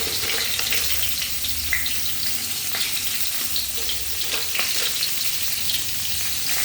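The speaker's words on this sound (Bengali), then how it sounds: "আমার তো এদিকে পটলটা ভাজা হচ্ছে" Pointed gourd (potol) frying in a pan gives a steady, dense sizzle with occasional stirring scrapes, close and continuous, with no voices.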